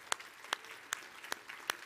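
A handful of slow, evenly spaced handclaps from a church audience honouring long-married couples, five crisp claps, faint and isolated against a quiet room.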